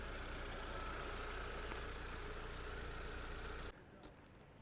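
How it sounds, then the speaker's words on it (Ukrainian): A 2003 Volkswagen Passat B5+ 1.6 MPI engine idles with a constant low hum and mechanical noise, then cuts off abruptly near the end, leaving near silence. "мотор працює ідеально"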